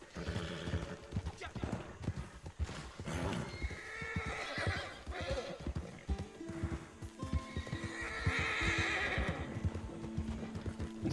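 Horse galloping across open country in Red Dead Redemption 2 Online, steady clip-clop hoofbeats with snorts and whinnies, mixed with game sounds and a voice talking over it.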